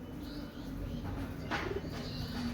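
A pair of black-eyed Pakistani Sialkoti baby pigeons coos softly and close by, in low murmuring notes over a faint steady background hum.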